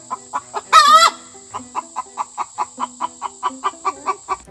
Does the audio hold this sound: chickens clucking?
yes